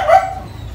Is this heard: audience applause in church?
no